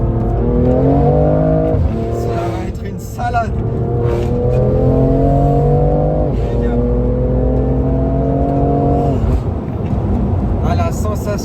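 A BMW M2 Competition's engine revs up through repeated rising pulls with shifts between them, loud and close throughout.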